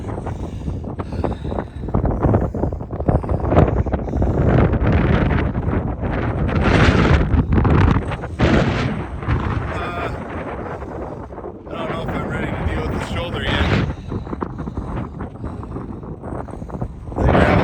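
Strong wind buffets the microphone on an Ironman training bike ride, making loud, gusty rumbling roar throughout with uneven surges and a few brief quieter gaps.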